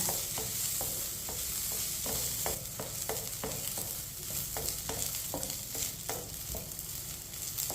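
Semolina halwa is roasted in a pan, with a spoon scraping and stirring in a steady, rhythmic pattern of rasping strokes over a soft, continuous sizzle, heard close up.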